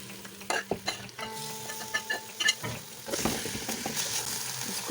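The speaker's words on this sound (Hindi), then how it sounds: "साग को मैंने मसालों के अंदर अच्छे से फ्राई कर लिया है।" Boiled saag is stirred into frying spices and onions in a pan, giving a steady sizzle broken by repeated scraping stirs of the spoon, close by with no talking.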